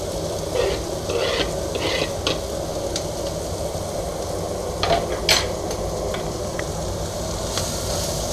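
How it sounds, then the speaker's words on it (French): Onions sizzle steadily in fat in a pan while a lamb navarin is being made, a close, constant frying hiss with occasional stirring scrapes and utensil clinks. "on va y mettre maintenant les oignons. On va les faire réduire un petit peu."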